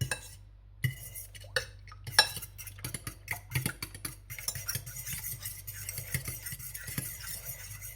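A seven-year-old girl whisks eggs in a bowl for scrambled eggs, a run of quick clinking utensil strokes against the bowl, close and fairly quiet, with short gaps and a low hum underneath.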